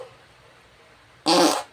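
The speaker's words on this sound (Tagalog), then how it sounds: "Grabe ko umutot din." A single short fart bursts out near the mic after a quiet stretch, loud and brief, lasting under half a second.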